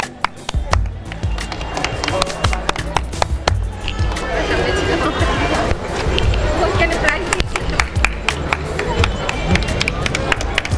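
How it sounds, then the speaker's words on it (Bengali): A crowd at an outdoor Durga puja award presentation in Siliguri claps in dense, sustained applause made of many sharp overlapping hand claps, with voices speaking over it. "সবাই হাততালি দাও।"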